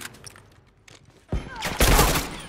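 Quiet rustling gives way to a sharp gunshot in The Last of Us, followed by a second, louder blast and a rumbling, echoing tail that slowly fades.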